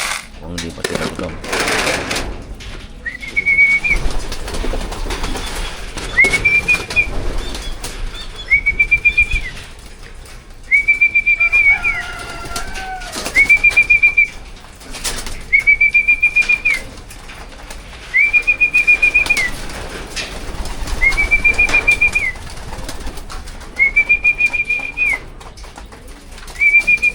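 South Derby Flyer pigeons flapping their wings in bursts of fluttering, close by, with a high repeated mechanical whistle-like chirp recurring every few seconds, and someone talking throughout.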